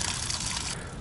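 Water gushing and splashing out of a drain valve on an RV being winterized, a steady close hiss of flowing liquid that eases off near the end.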